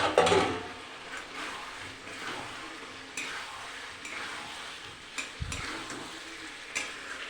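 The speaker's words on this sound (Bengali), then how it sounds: "আলুটা দিয়ে আর কিছুক্ষণ কষিয়ে নেব" Chicken and potatoes being stir-fried in a pan, with a steady sizzle and scattered scrapes and knocks of a spoon against the pan over several seconds.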